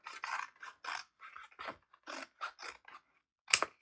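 Scissors snipping through crinkly food packaging in a run of short, crisp cuts, close and dry, with brief gaps between strokes and one sharper snap near the end; no one talks.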